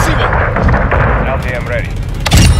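Killstreak strikes explode in Call of Duty: Modern Warfare II multiplayer on the Shipment map, a dense barrage of booming blasts and crackling gunfire under game radio chatter and electronic cues, with a final heavy thump.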